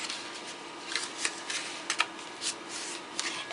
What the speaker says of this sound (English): we're just going to go ahead and fold this up